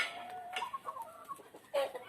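A chicken at a backyard coop clucking several times in short, irregular bursts, close and fairly faint.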